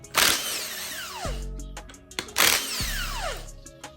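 Two bursts from a power tool, each with a rising whir that winds down into a low rumble, as cam gear bolts come off a 6.0 Gen 4 LS engine during teardown, close and fairly loud.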